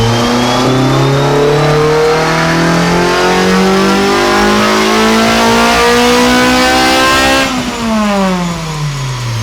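A Honda Civic Type R clone with a K20R engine revs on a dyno in one long, loud pull, the pitch climbing steadily toward high rpm before it drops sharply off the throttle, with no talking.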